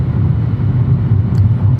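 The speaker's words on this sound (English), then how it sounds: "and we're in the car." Steady low engine and road rumble inside a moving car, close and continuous with no talking, a faint brief hiss near the end.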